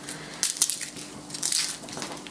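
Garlic cloves being crushed with a smasher in a home kitchen, a couple of bursts of crunchy, squishing crackle over low background noise.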